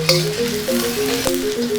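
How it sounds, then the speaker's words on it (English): Shallots fry for sambal in a mix of vegetable and coconut oil, giving a soft, steady sizzle heard close up with no talking. "I cook the shallot until slightly golden brown"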